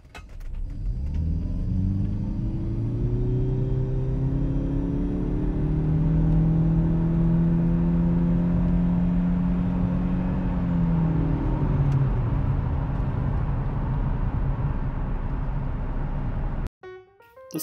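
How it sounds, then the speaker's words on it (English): A 2015 Lincoln MKZ Hybrid engine runs smoothly and accelerates, its steady whirring hum rising and falling in pitch as it revs, close and continuous, then cutting off abruptly near the end. "This is my 2015 Lincoln MKZ Hybrid, and it doesn't quite sound like a Trackhawk."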